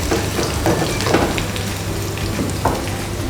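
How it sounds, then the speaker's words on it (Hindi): Peanuts and green chillies fry together in a pan for sabudana khichdi, a loud steady sizzle broken by a few clinks and stirring scrapes, with no voices. "हमारी पीनट्स और मिर्चियाँ साथ में पक रही हैं"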